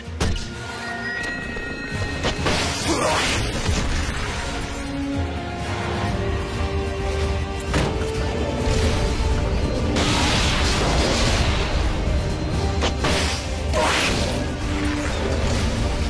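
Cluster bombs go off in a video game, a dense run of crashing, whooshing impacts and booms that fills the whole stretch at steady loudness, with no talking.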